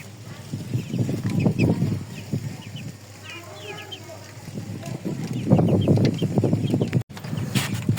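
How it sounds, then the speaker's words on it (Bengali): Seven small desi chickens cluck and call softly after being released, with bursts of clucking mixed among people talking nearby. "এখানে দেশি মুরগি ছাড়া হয়েছে 7টা, ছোট ছোট সাইজের।"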